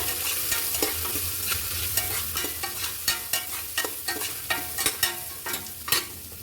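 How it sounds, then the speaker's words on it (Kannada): A spatula scrapes and stirs spices with turmeric and garam masala in a sizzling pan for avarekalu palav. The scrapes land in an irregular, close rhythm over a constant frying hiss, with no voices. "ಇವಾಗ ಇದಕ್ಕೆ ಒಂಚೂರು ಅರಶಿನ, ಒಂದು ಸ್ವಲ್ಪ ಗರಂ ಮಸಾಲೆ, ಇದನ್ನು ಚೆನ್ನಾಗಿ ಫ್ರೈ ಮಾಡಬೇಕು"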